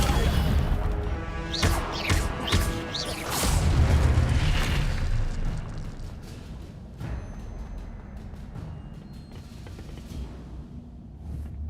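The Incendio fire spell in Hogwarts Legacy goes off with a few sharp whooshing bursts and a heavy booming blast, then a crackling fiery rumble that trails away.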